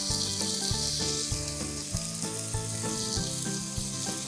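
Hot pan sizzling steadily as chopped tomato cooks with wilted spinach, a close crackling hiss mixed with soft background music and no talking.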